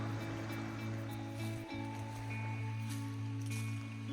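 Water lapping at the rocky edge of remote Porphyry Island near Thunder Bay, a soft continuous wash of waves under steady low wind rumble and hum.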